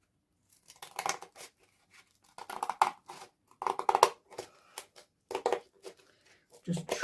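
Card being trimmed with scissors at a crafting desk, a close series of crisp snipping cuts in short bursts separated by brief pauses.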